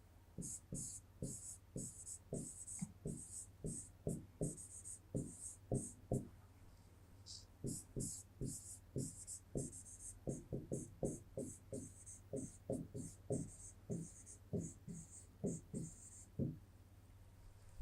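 Pen or pencil writing sentences by hand in an English workbook lesson, a steady run of short scratchy strokes at close range, pausing briefly midway, over a low constant hum with no talking.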